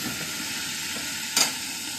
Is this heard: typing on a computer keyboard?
no